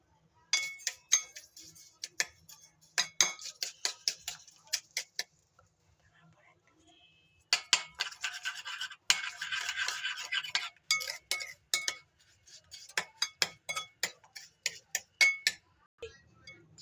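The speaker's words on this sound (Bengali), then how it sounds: "এরপর ফেটিয়ে নেব।" A whisk clicks briskly against a bowl, beating eggs with sugar and salt for egg pitha, in rapid bursts of metallic ticks separated by short pauses.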